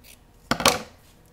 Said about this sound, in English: just cut this straight.